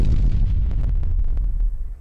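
Explosion sound effects during an 80s D&D-inspired tabletop RPG session: a rapid run of booming blasts and sharp pops over a heavy low rumble, loud and close, with no one talking.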